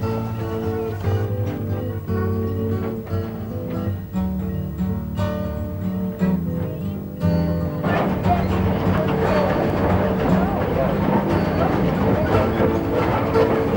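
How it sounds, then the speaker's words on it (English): Steady rumbling train noise with rhythmic clickety-clack from wheels on the rails and creaking cars, loud and continuous, growing denser and rougher partway through. "the clickety-clack of the tracks, the creaking of the cars"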